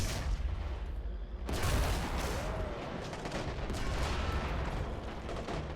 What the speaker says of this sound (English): The mortars are still firing.